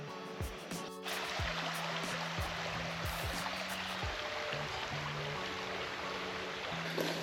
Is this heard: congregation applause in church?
no